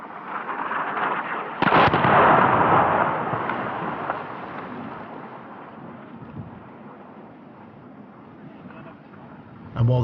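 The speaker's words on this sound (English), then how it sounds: "Within a couple of hours of our arrival, I witnessed one of the regular airstrikes." Airstrike explosions in Syria boom in the distance, with a sharp blast followed by a long rumbling roar that slowly fades, then a second sudden thud at the end.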